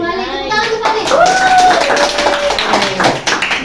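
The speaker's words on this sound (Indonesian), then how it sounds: "Tepuk tangan kembali" A group of students in a classroom counseling session claps their hands together in a quick patter, with voices talking and a rising sung or spoken tone over it.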